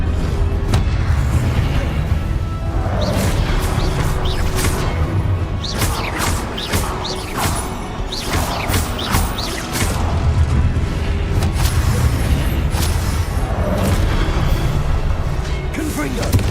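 Repeated Confringo blasting spells exploding in Hogwarts Legacy, a steady loud rumble of booms, crashes and whooshing impacts layered over continuous battle noise, with a voice faintly present in the mix.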